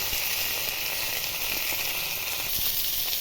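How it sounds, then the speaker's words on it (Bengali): Pieces of pangas fish frying in hot oil, giving a loud, steady sizzle and hiss that runs without a break, close by and with no voices. "মাছগুলো উল্টো পাল্টে ভালোভাবে ভেজে নিচ্ছি সব পিঠগুলো সমানভাবে ভেজে নেব"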